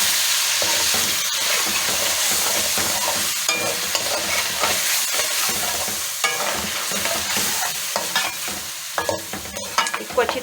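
A spoon scrapes and stirs an onion-tomato paste through a pot of sizzling palak gosht, the frying hiss steady and loud beneath repeated clinks and scrapes, with no speech.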